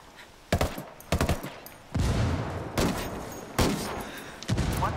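Bursts of automatic gunfire from the Ghost War multiplayer match, several loud rapid volleys separated by short gaps, close and dominant with a steady background hum.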